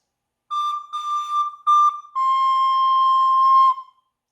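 A recorder plays a few short, pure, breathy notes and then one long held note, close and clear against silence, with no voices.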